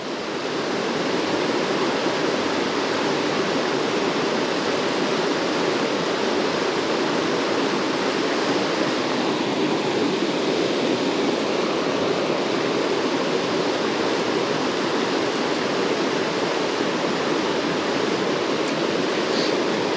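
Fast-flowing water on the River Ayr rushes in a dense, constant roar, close and loud, with no voices over it.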